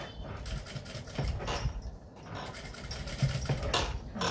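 A sewing machine stitches a strip of fabric with a steady, dense mechanical whir and chatter that runs continuously and loudly throughout.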